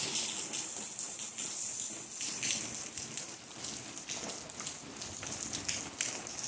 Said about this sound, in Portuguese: Aqui já faz dias que está chovendo bastante.